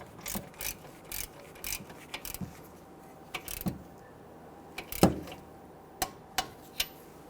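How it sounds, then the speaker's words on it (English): A ratcheting torque wrench tightens the outer tie rod nut on a 2008-2013 Infiniti G37, giving short bursts of clicking and a few sharp metallic ticks near the end, close and fairly quiet with no talking. "Then we'll tighten down the tie rod nut here, and then we're going to torque this down to"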